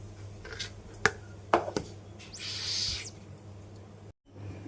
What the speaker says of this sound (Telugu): నువ్వులు కూడా మిక్సీ పట్టేసుకుందాం